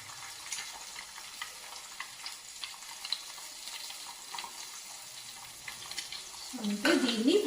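An egg and Maggi noodle snack frying in a pan, a soft low sizzle with faint stirring, ending in a louder burst with a voice speaking at the very end.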